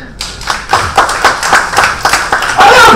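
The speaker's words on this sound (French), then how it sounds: "On peut l'applaudir." A live audience claps together in a steady rhythm, with loud, even bursts repeating about every half second for the whole stretch and no voices over it.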